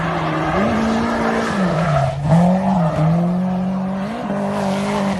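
A car engine revs hard and climbs through the gears with clutch kicks, its pitch stepping and sliding between shifts as the drone holds steady and loud, with no talking.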